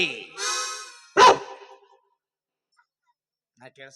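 A person on stage in a Kannada comedy play mimics a dog, giving a long whining bark followed by a short sharp yap, then a brief murmur of voice after a pause.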